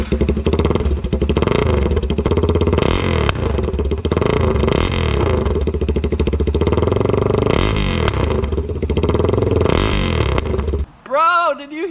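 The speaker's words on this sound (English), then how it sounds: "The straight pipe DRZ400 that has seen the whole world pretty much. Let's start her up." A Suzuki DRZ400 supermoto with a straight pipe exhaust fires up and revs loudly in repeated bursts, crackling with pops between revs, then cuts off abruptly before a brief voice near the end.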